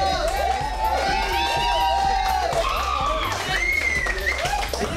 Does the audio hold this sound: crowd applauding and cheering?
yes